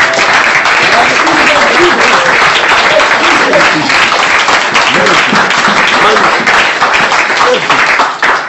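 A church congregation claps loudly and continuously in praise, a thick, sustained wash of many hands close by that holds steady before easing off at the very end.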